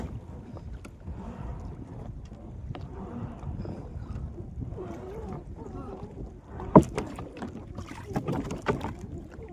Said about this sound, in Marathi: बघा तर वारं बी सुटलंय मित्रांनो इकडं